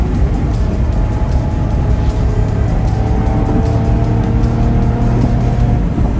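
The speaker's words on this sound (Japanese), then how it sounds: "今なら少し聞こえるのかな。 ダウンシフトします。" A V12 car engine drones loudly from inside the moving car, its pitch sliding and stepping as it downshifts, over constant road and wind roar with no talk.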